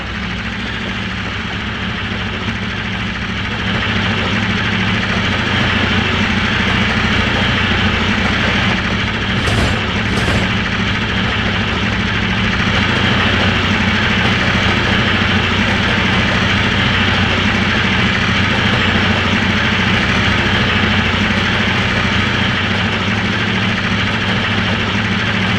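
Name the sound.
locomotive engine at max throttle picking up speed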